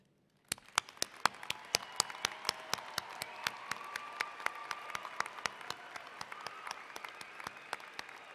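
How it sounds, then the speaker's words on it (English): Sustained applause from a large audience at a university commencement ceremony, dense clapping with sharp individual claps standing out, steady from start to finish. "Please join me in applause."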